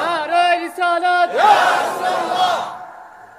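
A preacher's call at a religious sermon answered by a crowd shouting the takbir response in unison, a loud, swelling collective roar that follows a single sung voice and then fades.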